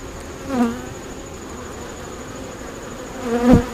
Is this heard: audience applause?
no